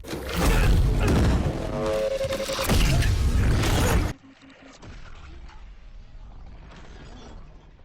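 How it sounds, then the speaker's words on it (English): Glass shatters in a scene from the 2020 horror film The Invisible Man: loud crashing and breaking with heavy thuds for about four seconds, then an abrupt drop to a quieter, muffled rumble. "That piece of glass definitely didn't shatter on its own"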